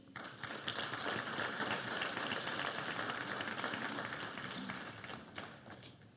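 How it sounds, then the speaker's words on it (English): A graduation audience at a Unisa ceremony applauds steadily, dense clapping from a large crowd heard at a moderate distance, swelling and then slowly tapering. "we give him a round of applause"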